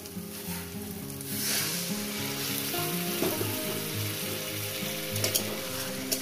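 Catla fish curry with potatoes sizzles and fries in a pan, a dense crackling sizzle punctuated by the scrape and clink of stirring, loud and close with no talking.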